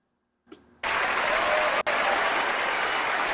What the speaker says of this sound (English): let's praise myself and give myself some applause here